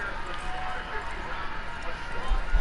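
Horse hooves clip-clop steadily in Red Dead Redemption 2, a continuous rhythmic patter set in dense game ambience with a voice talking over it.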